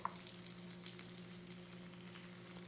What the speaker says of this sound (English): So the steak is cooking away, the potatoes are cooking away.